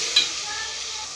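Fried food being stirred with soy sauce in a pan: a brief close scrape of stirring over a steady, soft sizzle, with no voices.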